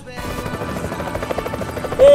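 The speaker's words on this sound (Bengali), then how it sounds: "একটা হেলিকপ্টার" A helicopter thuds with a rapid, even rotor beat that stays steady throughout, ending with a sudden louder tonal burst.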